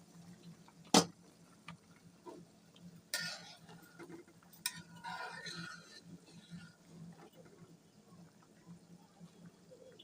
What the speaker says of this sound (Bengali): টমেটোগুলো দেওয়ার পর ঢাকনাটা খুলে একটু নেড়ে চেড়ে দেই।